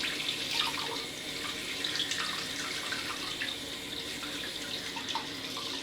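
Tap water runs steadily in a sink, lukewarm rather than hot, with a constant close hiss and a few faint splashes and clinks over the flow.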